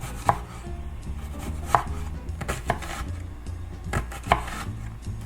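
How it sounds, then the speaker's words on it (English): A knife slicing a quartered small red onion thinly on a cutting board, sharp chopping knocks at an uneven pace, close and clear with no talking. "We're gonna grab a small red onion, quarter it, and then we're gonna slice this thinly as well."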